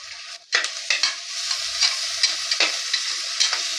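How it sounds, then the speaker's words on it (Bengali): Ginger paste fries in a pan for a simple jackfruit curry: a steady bright sizzle broken by repeated scraping stirs of a spatula at a loose rhythm, close and clear, with no talking. "আদা বাটা দিয়ে দিলাম।"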